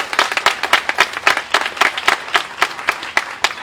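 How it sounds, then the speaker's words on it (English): Steady applause from a group at a tribute event in Yonkers, many hands clapping in a dense, continuous patter with no voices over it. "let's give them a round of applause"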